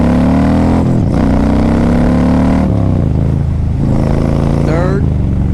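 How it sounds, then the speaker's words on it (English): A 2010 Honda Stateline motorcycle pulls away through first and second gear: a loud, close engine note climbs steadily, dips at each shift, then rises again as it keeps accelerating. "We'll accelerate a little bit out of first and second gear."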